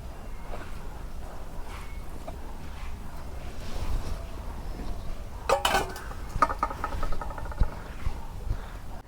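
Soaked rice is worked into a paste on a shil-pata grinding stone, giving a low, steady rubbing scrape. Sharper stone-on-stone clinks and knocks cluster toward the end, all close and without speech.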